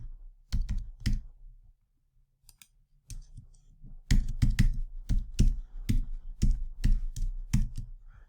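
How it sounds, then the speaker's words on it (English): Login credentials typed on a computer keyboard for an ESXi server: clusters of crisp, close key clicks in short irregular bursts separated by pauses, quiet overall and without talk. "So let me go ahead and type that in."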